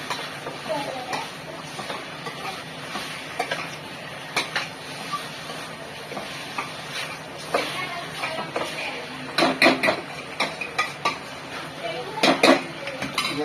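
Mutton curry stirred in a cooking pot over a gas flame produces repeated metallic scrapes and clinks of a ladle against the pot, growing busier toward the end, over a low background hiss with occasional speech.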